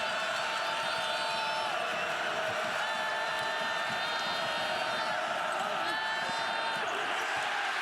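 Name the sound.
basketball crowd in Gainesville arena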